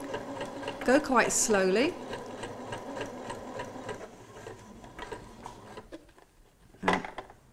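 A domestic sewing machine runs slowly, stitching an invisible zip close under its teeth: a steady mechanical whir and needle clatter under a voice, then fading with a brief louder burst near the end.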